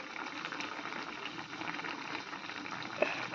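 A pot of fish curry simmers at a steady boil, its soft continuous bubbling close by and moderately quiet, with no one talking.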